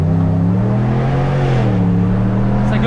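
A lowered Dodge Ram pickup with a V8 engine and a bodykit, revving loudly at close range with a deep, steady rumble that rises and dips in pitch.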